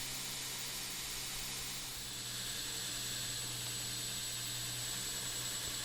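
A belt grinder with a higher-grit belt finishes a nickel twist Damascus hunting knife, a steady loud rushing hiss with a faint high whine, unbroken throughout.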